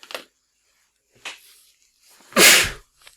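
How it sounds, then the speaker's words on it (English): A person sneezes once, loudly and close, after a couple of quiet sniffs and breaths. "I feel like I'm going to sneeze here again in a minute."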